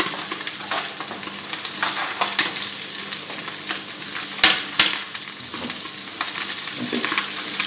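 Butter melts and sizzles in a hot pan on lowered heat beside a roast beef, a steady close crackle with a few sharp clinks and spikes and no talking.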